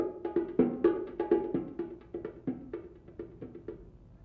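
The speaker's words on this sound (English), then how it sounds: "bongos, which are two small hand drums" A pair of small bongo hand drums is struck in a quick, lively pattern of crisp slaps and taps, close and alone, the beats getting slightly softer toward the end.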